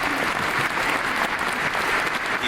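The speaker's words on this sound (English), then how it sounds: "Round of applause for the Andronici." A theater audience applauds the Andronici family cast at the curtain call of a Titus Andronicus stage production, with dense, steady clapping from a large crowd that holds loud and even throughout.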